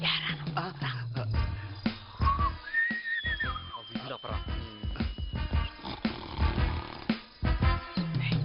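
A thin, wavering whistle tone rises and falls briefly in a Telugu comedy film scene, heard among lively talking voices and other scene sounds.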